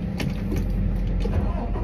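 A car drives along with a steady low engine and road rumble, close and even throughout a short stretch, with no talk.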